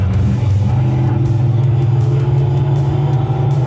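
Hovercraft engine on Quebec streets, a loud, close, steady droning roar with a deep low hum that holds at a constant pitch with only slight swelling.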